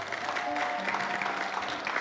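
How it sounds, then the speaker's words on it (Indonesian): Church congregation applauding together at a worship service, a steady wash of clapping that fills the whole stretch at moderate loudness, with faint sustained tones from background music underneath. "Saya mau Anda beri tepuk tangan yang meriah buat Tuhan kita ya."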